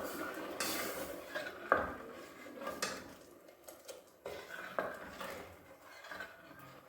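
Stirring Gujarati dal with chopped tomato in a pot: intermittent scraping and clinking of a spoon against the pot, several distinct knocks, close and moderately loud with no talking.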